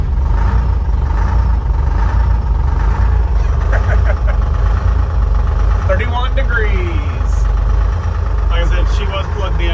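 An engine idles loudly after a cold start, producing a heavy low rumble with faint clatter. People talk over it throughout.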